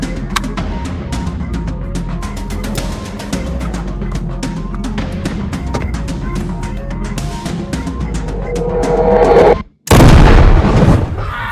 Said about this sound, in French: C'est l'heure des feux d'artifice.